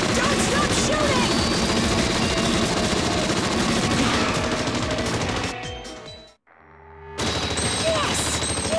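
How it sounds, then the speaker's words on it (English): Dense rapid gunfire in the Haunted Museum II arcade shooting game, loud bursts layered with music and effects that fade out, leaving a brief silence before game sounds return. "Don't stop shooting!"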